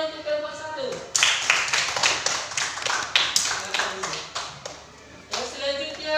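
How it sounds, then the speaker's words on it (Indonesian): A class applauds a student discussion group after its presentation, a burst of scattered, fairly close hand clapping lasting about four seconds and framed by talking before and after. "Oke, tepuk tangan untuk kelompok 1."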